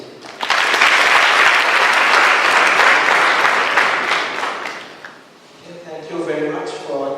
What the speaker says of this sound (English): Please welcome, with a big round of applause, Professor Abhik Roychaudhury on stage.